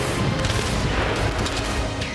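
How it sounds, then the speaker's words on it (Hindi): Machine guns fire on a Ukrainian sea drone racing across the Black Sea at night, a dense, unbroken barrage of rapid shots and booms that stays loud and fills the whole stretch. "रूसी सेना ने नाइट विजन कैमरा से यूक्रेन के समुद्री ड्रोन को देखा और ड्रोन पर मशीन गन से फायरिंग शुरू कर दी।"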